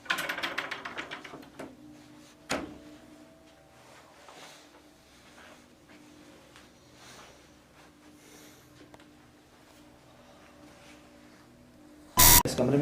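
An electronic ghost-hunting device in a haunted farmhouse room sounds a rapid series of sharp beeps, then falls quiet apart from faint clicks, before a sudden loud buzzing alarm burst near the end.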